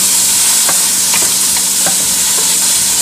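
Onion and garlic frying in a hot pan as they are stirred, a steady close sizzle with a few sharp scrapes of the utensil against the pan.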